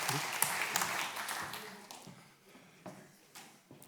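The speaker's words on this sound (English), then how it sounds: "So please give a warm hand of applause for Dajo Breddels." Applause from a conference audience greeting a speaker at a Scrum Day Europe event, scattered clapping that swells and then thins out over a few seconds, moderately quiet with a roomy feel.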